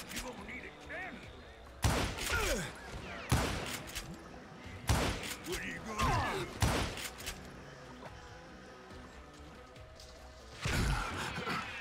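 Gunfire from the Western shooter game Call of Juarez: Gunslinger, with several loud, sharp shots at irregular intervals under a man's taunting game dialogue and busy background score.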